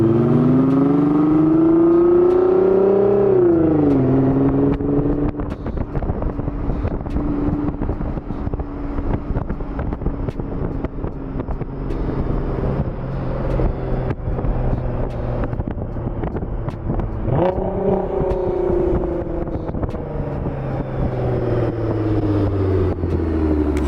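A Nissan GT-R engine revs loudly outside the car. The pitch sweeps sharply up and back down in bursts, with a rumbling idle and wind buffeting between the revs.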